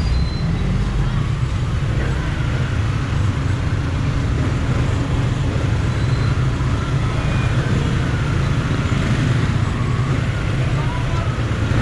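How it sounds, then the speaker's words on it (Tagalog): Street traffic in Mexico rumbles steadily, a dense low roar of passing vehicles and engines, close and continuous throughout with some faint voices in the mix. "ito yung traffic na lugar sa Mexico."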